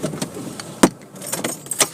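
Keys jangle in a short bright burst beside a car at a gas station pump, with faint scattered clinks before and after and no engine running.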